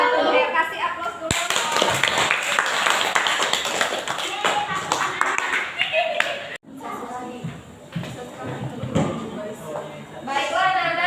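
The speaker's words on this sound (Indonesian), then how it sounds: "Oke, kasih aplaus dulu." Classroom applause after a student presentation: a sustained wash of clapping from many hands that fills most of the clip, with children's voices chattering underneath and briefly breaking through.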